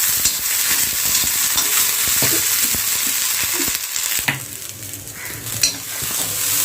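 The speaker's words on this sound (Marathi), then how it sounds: "लसूण घातला की आपल्याला यामध्ये घालायचे आहेत मटर. चांगले असे फ्राय करून घ्यायचे आहेत." Garlic, green chillies and fresh peas frying in a pan, a loud close sizzle broken by rattling, scraping stirs and a few sharp clinks of a spoon against the pan.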